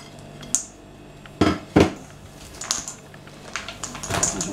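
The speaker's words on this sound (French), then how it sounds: "Maintenant, je mets mes pépites de chocolat au lait dedans." Milk chocolate chips tumble into a bowl of homemade coconut cookie dough, giving a few sharp clinks against the bowl and scattered light ticks, close and clear with no talking.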